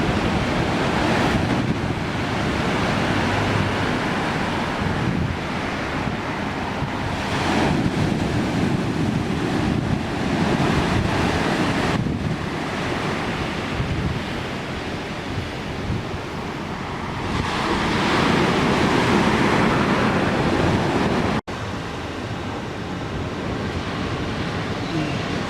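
Ocean waves and surf on the shore at Arue, Tahiti, during a tsunami alert: a continuous loud roar of breaking water mixed with heavy wind buffeting the microphone, with one abrupt cut partway through.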